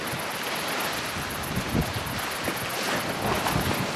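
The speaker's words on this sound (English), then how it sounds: "that wind has definitely dropped off a bit" Steady wind buffets the microphone at sea aboard a fishing boat off the UK, with a constant broad roar, faint lapping water and occasional small thumps, no one speaking.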